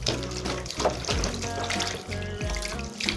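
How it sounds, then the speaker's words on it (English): Onions are rinsed in clean water under a running tap, with steady splashing and gurgling and occasional sloshing and handling knocks, close and fairly loud with no talk. "we are now washing it for the last time in a clean water"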